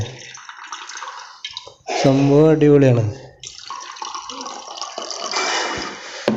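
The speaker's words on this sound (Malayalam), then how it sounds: "നമ്മളിതിൽ വെള്ളം ഒഴിക്കാൻ വേണ്ടി പോവുകയാണ്" Water is poured into a light-up LED drinking glass, giving a splashing, trickling pour heard close by between stretches of a person talking.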